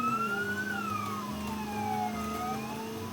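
A police siren in a video game wails, its pitch sliding up and down over a low engine rumble, steady and fairly close with no talking.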